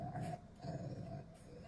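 Dog making a low, growly rumble like a motorboat, a continuous faint snorting purr with two short pulses, quiet and close with no talking.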